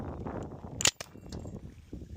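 A caliber .68 airgun fires a kinetic round at a range: one sharp, loud crack followed by a quick second report, standing out against steady outdoor background noise.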